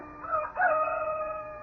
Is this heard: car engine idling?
no